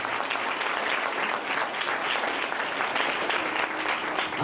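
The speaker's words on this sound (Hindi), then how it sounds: "ताली बजाएं प्रभु के जोर से" A church congregation at a Pentecostal anniversary service in Solapur breaks into loud, dense, sustained clapping that holds evenly throughout with no voices on top.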